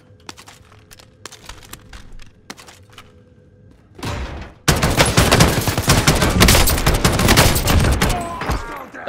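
Gunfire in the video game Call of Duty Warzone: a few sharp isolated shots, then a loud, dense burst of rapid automatic fire that continues to the end, with brief talk mixed in.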